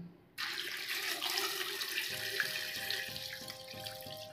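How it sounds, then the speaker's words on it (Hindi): Water is poured steadily into a cooking pot holding black chickpeas, potatoes and a spice pouch for a Navratri dish, a close, continuous splashing gush that starts abruptly and runs to the end. "अब इसमें डाल देंगे पानी"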